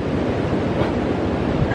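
Waves wash onto a beach in Bali, a constant broadband rush of surf mixed with wind buffeting the microphone.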